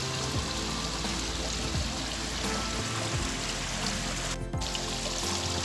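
Water pours and splashes steadily in an outdoor public fountain, a constant, even wash of sound heard alone without voices.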